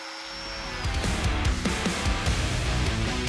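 A power sander hums loudly and continuously while smoothing wooden parts for a tall record album shelf, with a steady whine and small bumps and knocks as the tool moves over the wood.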